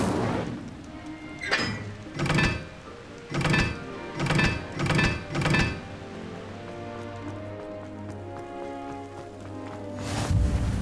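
Incendio fire spell cast in the Hogwarts Legacy video game: a run of about six loud whooshing bursts in quick rhythm, then a lower steady rumble, ending with one more burst.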